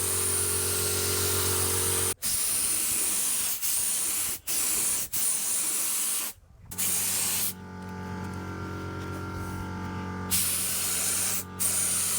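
A paint spray gun fitted with a 1.7 nozzle sprays coating during a boat rebuild, giving a loud steady hiss in long bursts broken by brief pauses, with a deeper compressor-like hum joining near the end.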